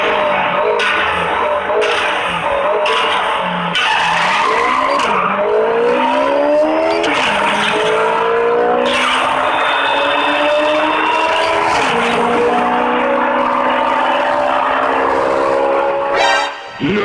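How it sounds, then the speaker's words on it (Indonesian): Race car engines in the Asphalt street drag racing video game roar continuously through rising gear-shift whines and revving sweeps, with tire screeches layered over loud, steady engine noise for the whole stretch. "Ini adalah game drag racing, guys"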